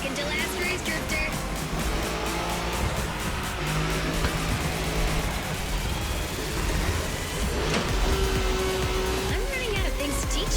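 A Nissan Skyline drifts in a race in The Crew Motorfest video game, with a constant engine drone, rising and falling revs and tire noise, while voices talk over it.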